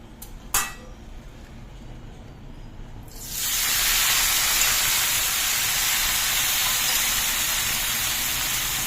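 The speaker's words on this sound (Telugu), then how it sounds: "గోంగూర బాగా వేయించుకున్నాం" Gongura leaves dropped into hot oil in a pan, a sudden loud hiss and sizzle rising after a few quiet seconds and then holding steady, preceded by a couple of light clinks.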